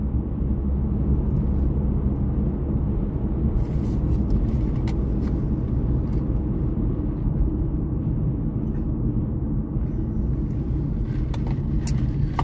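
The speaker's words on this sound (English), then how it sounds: "lots of cars coming out of the National Guard base" A stream of cars drives out of a National Guard base, producing a constant loud low road rumble with passing vehicle noise and occasional brief clicks, no voices.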